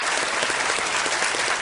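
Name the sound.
audience applause welcoming the CID team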